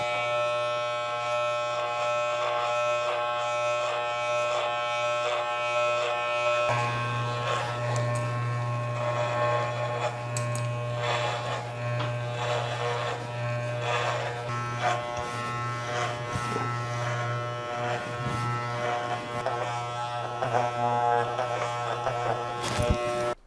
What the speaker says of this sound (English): you're going to use the clipper over fingers technique